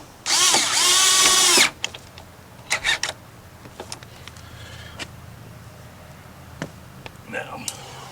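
A power drill runs loud and steady for about a second and a half, driving the tank bolt back into a Harley-Davidson Street Glide, followed by light clicks and handling noises with some talk.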